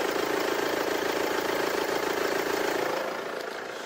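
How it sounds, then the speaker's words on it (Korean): A Mercedes-Benz E220 CDI diesel engine in a fourth-generation E-Class idles with a steady, even rumble and faint rhythmic clatter, heard close, easing slightly quieter near the end. "엔진 소음 먼저 들려드리면은"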